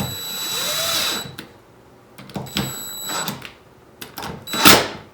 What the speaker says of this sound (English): Take our handy dandy screw gun.